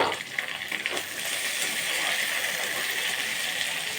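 Chopped tomato tipped into ginger-garlic masala frying in a pan, giving a steady, close sizzle that swells and holds for a few seconds with faint stirring scrapes.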